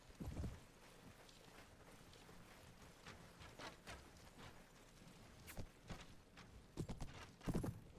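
Horse hooves clip-clop in the medieval battle game Mount & Blade, a run of uneven, fairly close thuds that bunch into louder clusters near the end, with no talk over them.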